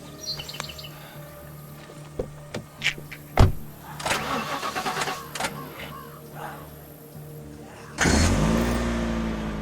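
Car engine cranking and starting in the zombie survival video game Last Stand: Aftermath: a few clicks and knocks, rattling starter noise, then a loud steady engine idle catching near the end, with no speech.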